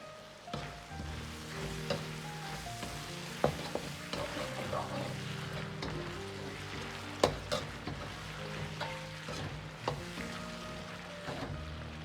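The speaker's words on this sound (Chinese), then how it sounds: "翻炒均匀，炒上颜色，" Duck pieces stir-fried in a wok with sweet bean sauce and hoisin sauce, a steady close sizzle punctuated by scraping and clacks of the spatula as the meat is tossed.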